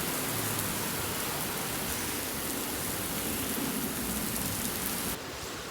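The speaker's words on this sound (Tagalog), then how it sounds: "Lakas ng ulan." Heavy rain pours steadily onto a road in Hungary, a dense, even hiss that fills the whole stretch at close range, easing slightly in volume near the end.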